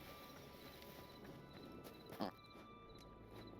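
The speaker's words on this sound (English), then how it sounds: "Oh, that's a horse." A horse in the video game Hytale clip-clops across the ground in a short burst of hoofbeats, fairly faint over steady game ambience with light background tones.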